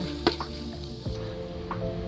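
Moong dal frying in a pan for halwa, a steady close sizzle with a few scraping stirs and a soft clink of the utensil, no one talking.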